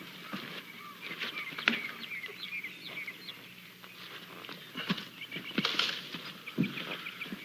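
A pony walks along outdoors, its hooves clip-clopping at a steady pace amid birdsong and other farmyard animal sounds.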